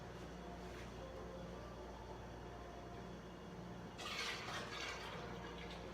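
Liquid being poured from a pot into the narrow opening of a Mr Beer keg fermenter for an IPA, a quiet low background that swells into a louder splashing gush near the end.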